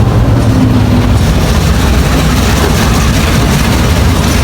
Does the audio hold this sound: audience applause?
no